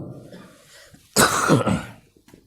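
A single harsh cough bursts out close by after a quiet moment, followed by a brief throaty rasp.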